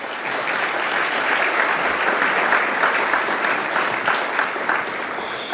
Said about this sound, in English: If we give her a round of applause